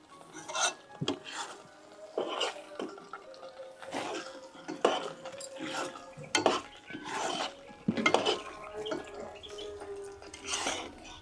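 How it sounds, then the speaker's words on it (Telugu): Mysore pak halwa cooking with ghee in a pan, stirred steadily on low flame with repeated scraping and clinking of the spoon against the metal, close and continuous throughout. "మనం వేసిన నెయ్యి అంతా సపరేట్ అయ్యేంత వరకు కలుపుకుంటూ ఉండాలి ఇలా"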